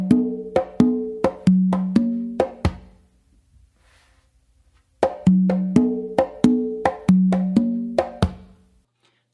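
Guaguanco pattern played on four conga drums: two short phrases of crisp open tones and slaps in quick rhythmic clusters, separated by a brief silent gap, close and alone.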